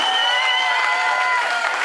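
Dense applause and cheering from a crowd at a rally event in Arzacq, 2016, a steady wash of many hands clapping close by with no pauses.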